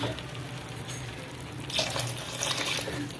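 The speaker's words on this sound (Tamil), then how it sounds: "இப்போ குழம்புக்கு தேவையான நம்ம தண்ணி ஊற்றிடலாம்." Water poured into a pan of simmering radish curry, a steady splashing hiss that swells louder partway through, over a constant low kitchen background with no talking.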